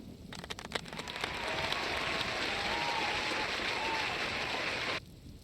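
A canned applause sound effect fired from a soundboard during a game podcast: a few sharp claps build into a dense burst of crowd clapping that holds steady, then cuts off abruptly.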